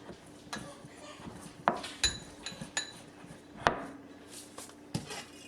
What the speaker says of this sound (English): We're going to mix this up using a whisk, like so. Break up all the brown sugar.